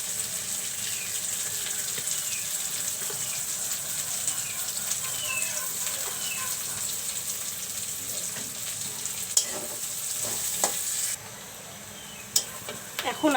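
Onions frying in mustard oil in a home kitchen pan, a soft continuous sizzle with occasional scrapes and clicks, quieter near the end, with no talking.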